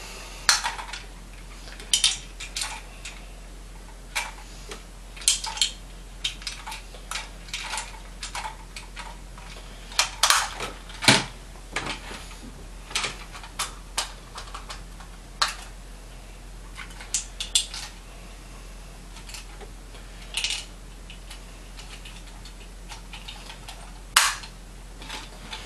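Plastic toy chains from a Power Rangers Zeo Megazord set being handled and put away, giving scattered light clicks and rattles that come in irregular bursts throughout, close by, with no talking.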